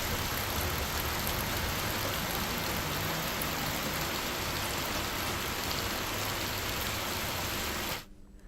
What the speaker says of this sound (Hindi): बारिश हो रही है और भारी बारिश होने से जनजीवन पूरी तरह से अस्त व्यस्त हो गया है